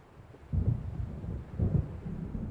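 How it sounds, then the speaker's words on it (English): Thunder from an approaching storm in Alan Wake Remastered rolls in two low, distant rumbles over a quiet windy background. "It seems there's a storm coming."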